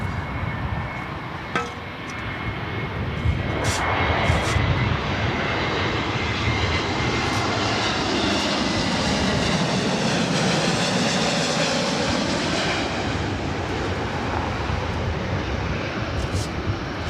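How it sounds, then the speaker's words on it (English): A two-year-old Airbus A321neo jet comes in to land at LAX, its engine roar swelling loud and close with a sweeping pass. The sound holds steady before easing, with faint talk in the background. "Airlines Flight 2219, coming in from Seattle on a 2-year-old A321 Neo"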